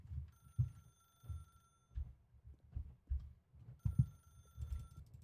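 A telephone ringing in The Stanley Parable video game, a bright electronic ring sounding in two bursts separated by a pause, over a low throbbing rhythmic pulse in the background, with no talking.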